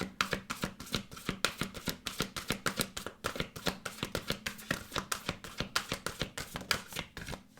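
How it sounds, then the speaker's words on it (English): Tarot or oracle cards shuffled by hand in rapid, rhythmic riffles. The crisp, evenly spaced bursts run continuously up close with no talking. "I keep on shuffling. So many cards."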